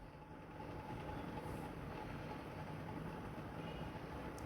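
A Cairo metro train runs along its line toward Helwan, giving a steady, loud rumble with a faint hum throughout, no voices heard.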